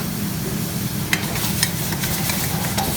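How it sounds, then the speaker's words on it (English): Beef stroganoff ingredients flambéing in a pan, a steady close sizzle with scattered sharp crackles and pops, no voices. "So we're just kind of flambeing that."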